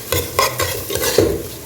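Onion sautés in generous oil for a Kili Meen fish head curry, with quick rhythmic scraping stirs over a low sizzle, loud and close, and no one talking.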